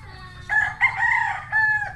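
A rooster crows close by, its harmonic call running in two bursts with a brief pause between them over a low background rumble.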